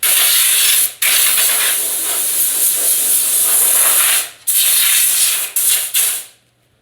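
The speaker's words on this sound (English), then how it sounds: "I'm going to blow it off when we get down with shop air." Compressed shop air blowing off a pickup truck tailgate before spray painting: a loud, steady high hiss from an air nozzle, cut off briefly a few times before stopping.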